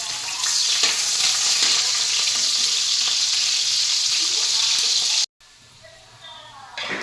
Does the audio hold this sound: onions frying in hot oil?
yes